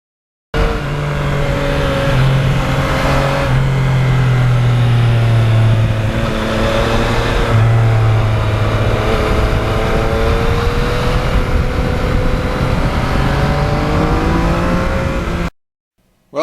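A 2020 Yamaha MT-09 motorcycle is ridden at speed, its engine humming steadily and loudly with shifting pitch as it accelerates and changes gear, wind rush filling the background throughout.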